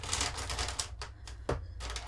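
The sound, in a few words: felt tip and fine liner pens being tipped out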